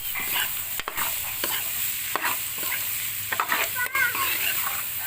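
About half a kilo of onions fries and is stirred into a chicken samosa filling, with close, busy scraping stir strokes over a steady sizzle and occasional clinks.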